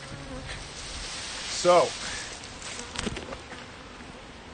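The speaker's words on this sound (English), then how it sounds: "previously I planned on doing something with these bees here other than putting them into the compost pile" Honey bees from a split colony hum and buzz close by, a steady drone with one louder buzzing pass, while a person briefly starts to speak.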